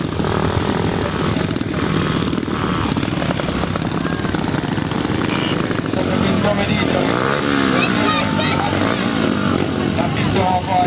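125cc motocross motorcycles race on a dirt track, their engines droning loudly and continuously with rising and falling revs, under a loudspeaker announcer's voice.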